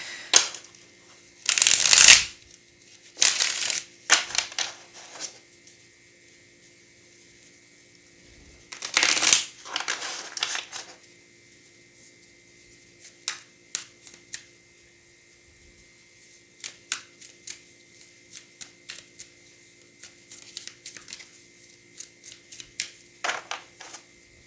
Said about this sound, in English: I'm going to shuffle it a few more times